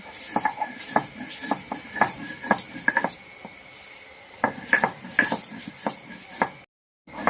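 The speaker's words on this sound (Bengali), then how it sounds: "মশলাগুলো আমি বেটে নিচ্ছি" Spices being ground for a chalta (elephant apple) pickle, giving repeated close knocking and scraping strokes at an uneven pace, with brief pauses and a short silence near the end.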